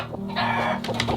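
A broody hen gives a short, low throaty cluck and murmur, close by, a single brief vocal burst.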